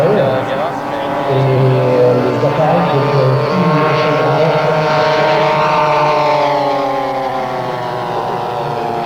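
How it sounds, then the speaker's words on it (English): Steady droning hum of a model Black Widow P61 plane powered by two 38cc Zenoa engines flying at a 1995 show, fairly loud and continuous, with a commentator talking over it. "Richard Crabb from England has brought along his Black Widow P61. Powered by two 38cc Zenoa engines,"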